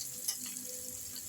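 Cabbage frying in a pan while being lightly stirred, a soft continuous sizzle with faint scraping, quiet and steady throughout.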